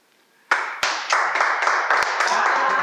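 A burst of fast, continuous clapping from a small group starts suddenly after a quiet moment and carries on steadily, loud and close.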